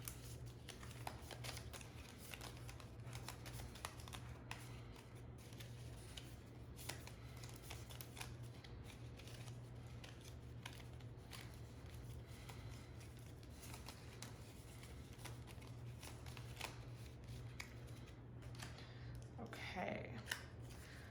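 A deck of tarot-style cards shuffled before pulling a timeline card, heard as faint, steady, soft ticking and rustling throughout over a low background hum in a quiet room.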